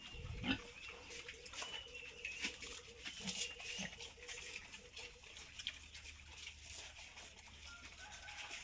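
Pigs in a pen on a Thai pig farm raising wild boar and black pigs, with scattered grunts and squeals over a steady background of farm noise, birds and a rooster faintly in the distance.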